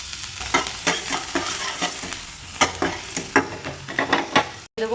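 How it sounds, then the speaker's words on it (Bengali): Chopped garlic frying in butter in a kadai wok gives a steady close sizzle, broken by repeated scraping stir strokes about every half second. "বাটারের মধ্যে দিয়ে দেবো কেটে রাখা রসুন"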